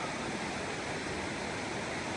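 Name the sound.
creek water flowing at a stream crossing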